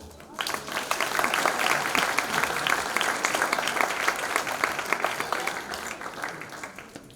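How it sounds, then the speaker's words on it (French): An audience applauds steadily at an interactive improvised dance festival, a dense wash of many hands clapping that swells quickly, holds for several seconds, then tapers slightly. "vous pouvez vous applaudir."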